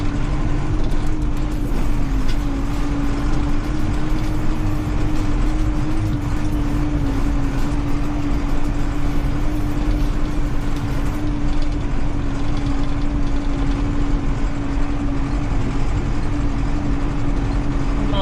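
A Zetor tractor hauling a full fertilizer spreader rumbles steadily along a bumpy road, its engine a loud, constant low drone with a sustained tone throughout, heard up close with no talking.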